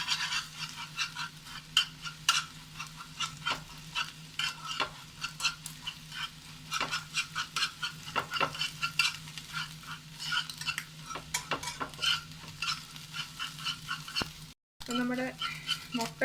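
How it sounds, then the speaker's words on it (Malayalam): Beaten eggs are scrambled and fried in a pan, with rapid, irregular spatula scraping and tapping throughout, close and moderately loud, and a voice at times. "അങ്ങനെ അടിച്ചു വെച്ചിട്ടുള്ള മുട്ടയാണ് ഇപ്പോൾ നമ്മൾ ചിക്കി പൊരിക്കൊണ്ടിരിക്കുന്നത്"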